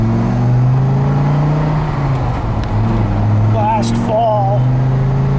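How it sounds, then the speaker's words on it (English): A 1997 Dodge Viper with under 1500 miles from new drones with a steady low engine note on a test drive at Laguna, its tone shifting slightly as it runs; someone talks over it throughout. "I'll hit all the gears so you can see it."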